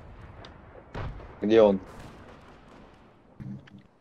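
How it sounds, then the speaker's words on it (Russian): Gunshots ring out in a video game where a dinosaur is shooting: a few dull booming shots and thuds, spaced apart, with someone speaking over them. "Вон они. Выстрелы."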